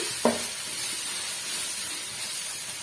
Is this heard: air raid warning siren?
no